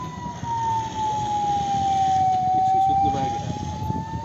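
An ambulance siren sounds as a single loud, steady wailing tone that dips slightly and rises again, held for about four seconds over a rumbling traffic background.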